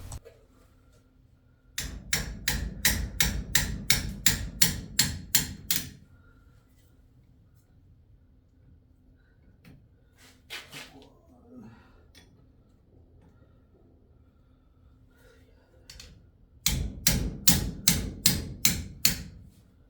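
A hammer taps on seized brake caliper nuts on a budget work truck: two rapid bursts of about ten sharp metallic knocks each, with scattered quieter clanks and clatter between them, close and with no talking.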